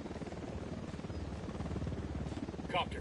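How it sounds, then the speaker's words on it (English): Helicopter in the video game Ghost Recon Wildlands, a steady pulsing rotor drone running throughout the clip beneath game sounds, with a brief brighter burst near the end. "Hit the dirt, helicopter."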